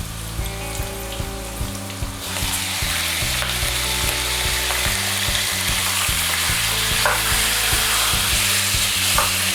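Beef sizzling and frying loudly in a pan with garlic and onion, a steady crackling hiss with clinks of stirring throughout, close and without talk.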